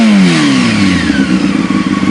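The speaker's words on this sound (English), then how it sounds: "So I'm gonna go ahead and rev it up." A motorcycle engine revs loudly up close, its pitch sliding downward as the revs fall back into a low, grumbly rumble.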